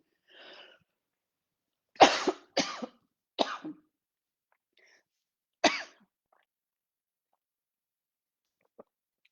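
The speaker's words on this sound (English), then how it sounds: "Sorry for coughing and spluttering." A short series of harsh, close coughs, three in quick succession and then one more after a pause, with quiet breathing sounds between.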